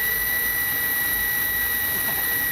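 A steam-powered motorcycle engine runs fuelled on jet fuel, giving a loud, steady, jet-like roar with a high whine throughout, close by and with no talking.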